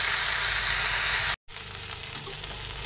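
Mixed vegetables stir-frying without water in a pan over a medium gas flame, giving a loud, steady close-up sizzle with a brief cut partway through and faint stirring scrapes after it.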